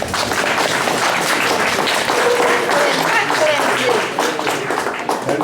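An audience at a memorial event bursts into loud, sustained applause after a song, a dense continuous wash of clapping with voices mixed in.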